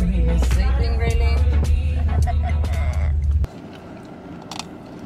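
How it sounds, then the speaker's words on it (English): A bite into crunchy food, probably ice cream, comes close and loud over a car's running engine. The engine hum drops away partway through, leaving quieter cabin ambience. "Did you hear that crunch?"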